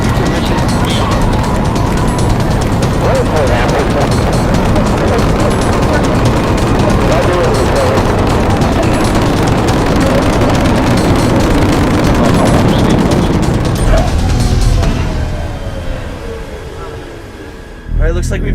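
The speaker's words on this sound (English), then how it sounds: "Booster ignition and liftoff of the Space Shuttle Discovery" Space Shuttle Discovery booster ignition and liftoff plays as a recording, a sustained loud broadband roar with crackling texture that holds steady for most of its length, then fades and thins out near the end.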